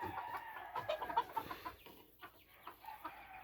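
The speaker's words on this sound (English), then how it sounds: "These here are red jungle fowl." Red jungle fowl, a small pheasant-family bird, cluck and chatter faintly in short, irregular bursts, with several birds calling close together.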